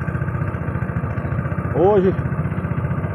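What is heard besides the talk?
boat motor running on a reservoir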